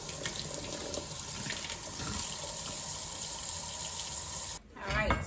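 Garlic is rinsed under a running kitchen tap, a steady close splashing stream that cuts off near the end, followed by a brief clatter.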